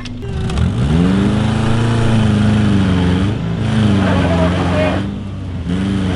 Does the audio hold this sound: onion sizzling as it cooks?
no